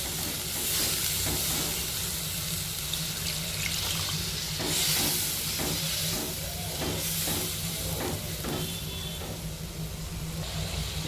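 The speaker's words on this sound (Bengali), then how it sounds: "ঝোলটা দেখো হালকা হালকা ফুটতে শুরু করেছে" Paneer curry gravy with water added begins to simmer, giving a steady close hiss and soft bubbling with faint irregular pops throughout.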